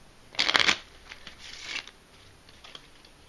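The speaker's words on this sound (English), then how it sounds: "I think one last shuffle and one last cut will do." A deck of playing cards gets one quick riffle shuffle, a sharp close flutter, followed by softer tapping and a light cut of the deck, all quiet and nearby with no voices.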